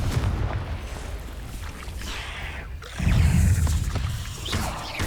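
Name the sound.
Confringo blasting spell explosion from video game Hogwarts Legacy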